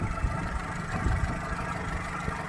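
A Fiat Punto Avventura petrol engine idles with a low, steady rumble that wavers slightly in strength, heard close and on its own.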